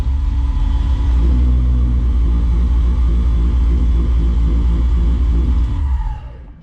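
An LS-swapped VW Bug with electrical problems runs close by, giving a loud, deep, steady engine rumble with a slight rise partway through before it cuts off near the end.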